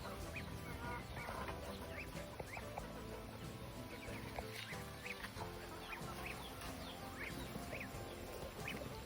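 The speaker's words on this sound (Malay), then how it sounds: "ayam Itik. Dalam tu anak itik." Busy poultry yard with ducks and ducklings calling at once, steady honking and quacking over a constant din, punctuated by higher peeping calls of the ducklings.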